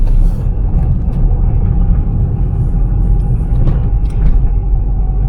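Cars pull out of the Daikoku parking area in Japan as it is cleared, a steady low engine rumble and road noise filling the scene throughout.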